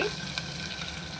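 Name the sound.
garlic frying in oil with mustard seeds and cumin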